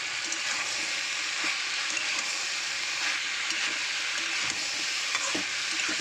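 Mushrooms frying in a pan, a dense, steady hiss of sizzling oil throughout, close and continuous with faint scraping of stirring.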